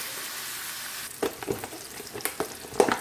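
Sausage and spinach riggies cooking in a pan, with a low steady sizzle that gets louder from about a second in, broken by several sharp stirring scrapes and clicks near the mic.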